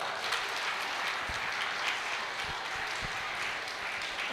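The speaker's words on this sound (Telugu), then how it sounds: "అందరు చక్క ఒకసారి గట్టి క్లాప్స్ కొట్టాలి." Audience applause at a Gita Jayanti celebration in Nellore, a steady wash of many hands clapping together at moderate volume, sustained without pause throughout.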